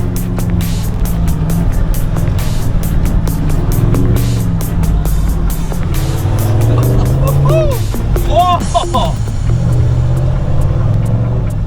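A Toyota Landcruiser pub truck driving through desert, a loud, steady low engine rumble heard close from onboard, with someone talking over it and a brief tonal squeal near the end.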